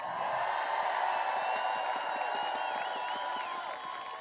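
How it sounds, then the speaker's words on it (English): A rally crowd at a Fund Our Future event in Tallahassee applauds and cheers, with a sustained wash of clapping and scattered whoops and whistles, fading slightly at the end. "Give yourselves a big round of applause."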